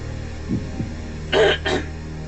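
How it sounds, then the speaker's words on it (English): Two short, sharp coughs close to the microphone, one right after the other, following a brief quieter sound. "I heard somebody cough then."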